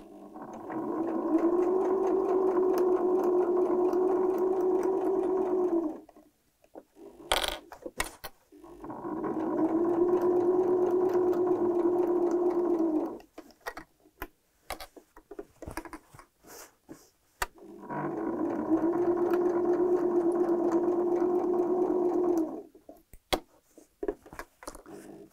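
A sewing machine stitches down a trouser seam in three sustained whirring runs of several seconds each, separated by short pauses filled with small clicks and handling noises, close and fairly loud.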